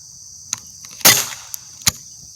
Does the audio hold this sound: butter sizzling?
no